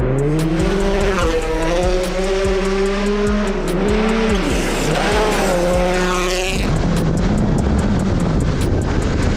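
A rally race car at speed during a pre-race test session, its engine loud and close, revving up and down through repeated gear changes before the note drops away into a steady roar.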